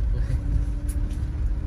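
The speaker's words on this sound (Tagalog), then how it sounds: "May nag-counterflow na kotse." A car driving the wrong way against traffic at night, heard as a steady low road rumble and engine drone with broadband traffic noise throughout, no distinct passes.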